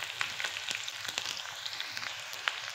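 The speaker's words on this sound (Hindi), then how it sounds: "अभी हम इसको अच्छे से फ्राई कर लेंगे।" Green chillies, curry leaves and finely chopped onion fry in a pan with capsicum and carrot for Schezwan veg fried rice. The oil sizzles in a steady hiss with small crackles and pops throughout, and no one speaks.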